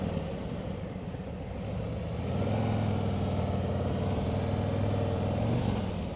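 2024 Harley-Davidson touring motorcycle with the 117 engine being ridden, a steady rumbling engine drone under broad wind rush, growing slightly louder as it picks up speed.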